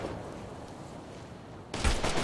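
Gunfire in the video game Operation Flashpoint: Red River, a distant rumbling background that breaks into a sudden loud burst of shots near the end.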